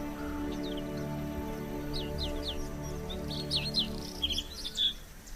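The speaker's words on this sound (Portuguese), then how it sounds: "Nos extensos caniçais, há agora raras aves canoras." Rare songbirds sing in extensive reed beds at the Rieselfelder Münster bird sanctuary, a scatter of short chirps and trills at moderate distance over a steady low hum, growing livelier toward the end.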